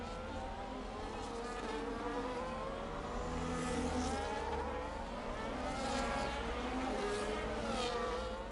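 Aston Martin Formula 1 race car lapping Silverstone in an F1 video game, its engine a steady high-pitched whine that rises and falls continuously through the clip, heard alone without talk.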